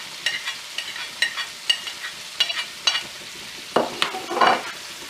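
Minced meat and tomatoes fry in a pan, giving a low, steady sizzle broken by repeated scraping stir strokes. A louder, fuller burst of spitting comes near the end, with no talking.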